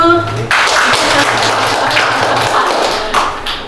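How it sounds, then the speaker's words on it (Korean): An audience applauding, a dense burst of clapping that starts abruptly and continues steadily, with a low hum beneath at first. "박수."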